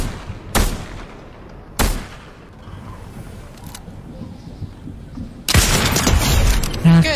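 Gunfire from the Fortnite battle game: two sharp, loud single shots about a second apart, then a dense burst of rapid shots and a crash near the end, over a busy game backdrop.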